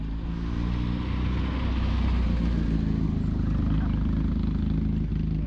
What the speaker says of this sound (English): Listen to the purr off that exhaust.